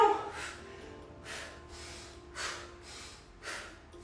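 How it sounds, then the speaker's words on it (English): During an at-home full body workout, a person breathes heavily and deliberately, with forceful exhales roughly once a second, close and fairly quiet. "Breathing is important,"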